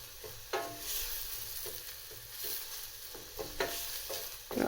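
Onions softening in butter in a pan, turned down to lower heat, giving a soft continuous sizzle with occasional stirring scrapes and light knocks.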